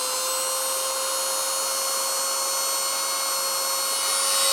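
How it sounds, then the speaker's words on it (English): Dremel 8260 rotary tool spinning at high speed, a steady, loud high-pitched whine with a constant tonal line that holds unbroken, rising slightly toward the end, with no talking. "the Dremel is way quieter, which is pretty good, especially if you're using it a lot"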